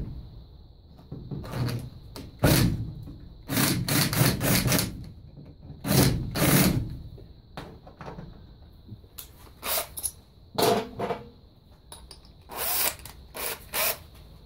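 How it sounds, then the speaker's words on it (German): A power drill bores a hole into a greenhouse frame, heard as several loud, separate bursts of whirring separated by short pauses, with tool handling noise in between and no talking. "Dazu bohre ich einfach ein Loch rein."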